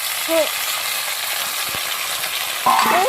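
Tomatoes frying with garlic and onion for a dhaba-style ridge gourd curry, a loud, even hiss of sizzling oil throughout, with brief clatters near the start and end.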